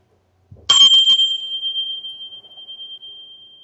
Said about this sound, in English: they're just my brass tinshy bells that I've got